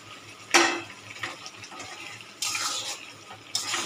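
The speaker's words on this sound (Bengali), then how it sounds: "নারকেলের দুধটা দিচ্ছি" Coconut milk is poured into a pan of pointed gourd for a Bengali potol curry: a sudden close splash, then softer liquid pours and two further rushing bursts of sloshing liquid, with no talking.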